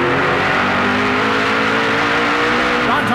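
Don Thompson Jr.'s Home Hardware Chevy stock car races in the 2010 Lucas Oil National 250, its engine droning loud and steady as the driver modulates the throttle, with a commentator talking over it.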